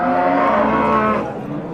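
A cow at the Shohidon livestock market gives one long, loud, close moo that tapers off near the end, standing alone with no talk over it.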